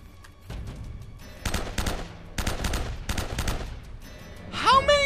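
Gunfire in Uncharted: Drake's Fortune, with several clustered bursts of shots separated by short pauses, loud and close, ending in a sharp whine-like effect.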